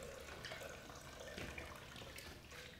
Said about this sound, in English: we're just going to pour all of our paper soup